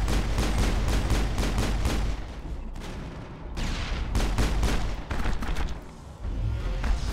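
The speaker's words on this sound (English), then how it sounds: "So I'll throw a grenade." Mass Effect combat on Eden Prime: dense bursts of rapid gunfire crackle loudly in fast repeated volleys, broken by heavier booms such as a grenade blast, with brief lulls between clusters.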